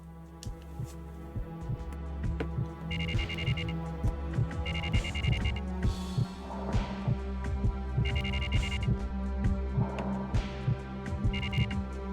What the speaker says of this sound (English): Why is the heartbeat?